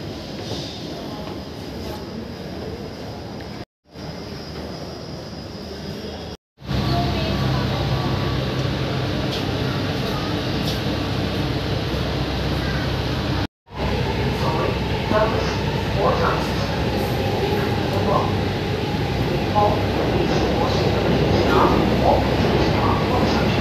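A Delhi Metro train rumbles steadily at Akshardham station, a loud continuous rail and carriage noise with brief cutouts, while people talk nearby throughout.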